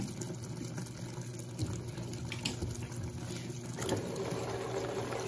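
An Electrolux Blue Touch 12kg washing machine fills with water, a steady rushing inflow with a low mechanical hum running continuously, growing slightly fuller toward the end.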